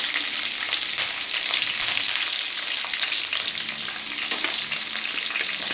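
Sliced onions and green chillies sizzle in hot oil in a pan, a loud, steady, close crackle with faint stirring and no voices.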